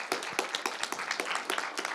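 A small audience at the closing panel of an international forum on European Ukraine claps, with a brief, uneven patter of distinct individual hand claps heard fairly close.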